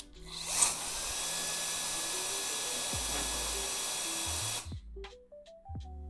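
A TurboJet Pro Oz handheld blower starts instantly into a steady, strong rushing hiss of air with a faint thin whine, then stops abruptly, followed by a few light knocks.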